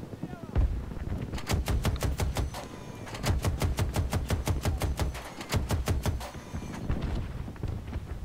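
Rapid automatic gunfire bursts in the Battlefield 2042 shooter, loud and close, with long rattling strings of evenly spaced shots separated by short pauses and a deep rumble beneath; a player's voice comes through in places.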